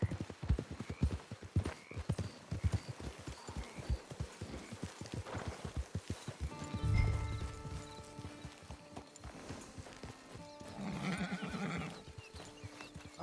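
Hooves clip-clop in a steady trotting rhythm, close and distinct, later joined by a horse's whinny and some tonal game sounds, from Red Dead Online.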